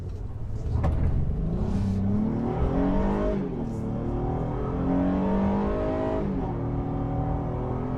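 A Honda Passport Trailsport SUV with a 3.5-liter V6 and 9-speed automatic accelerating, its engine note rising steadily through the gears with smooth shifts, heard loud from inside the cabin, no talking.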